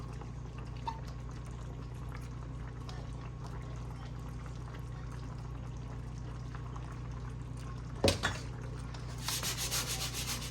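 Thick holiday stuffing pours into a pan as a steady soft rubbing, sliding sound, with a sharp clatter near the end and brighter scraping after it, close by and with no talking.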